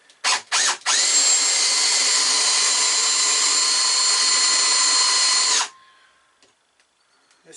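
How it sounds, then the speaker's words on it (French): A Power Plus 20V drill-driver bores into masonry: a few short revving bursts, then a loud, steady high whine held for about five seconds before it cuts off to near silence. "je me fais un petit trou tranquille"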